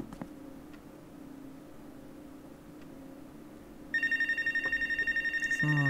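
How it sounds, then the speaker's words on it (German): A telephone rings in the video game Life is Strange: True Colors, a repeating electronic trill that starts partway through and pulses steadily and loudly after a quiet, humming stretch. "Telefon."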